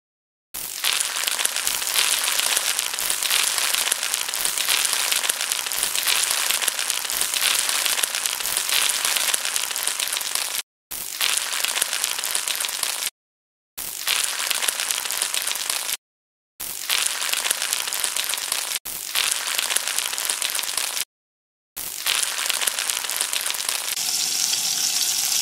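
Cauliflower pakoda frying in hot oil in a pan, a loud, dense, continuous crackling sizzle heard up close, cut by several short silent breaks, with no talking.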